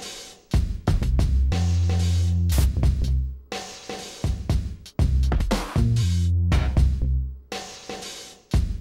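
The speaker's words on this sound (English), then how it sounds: "We just have a drum kit that's playing kind of this lazy dub groove, and then we have laser bass" A drum kit in Maschine plays a lazy dub groove with a laser bass line, deep booming bass notes and punchy hits in a slow, syncopated loop, loud and without talk.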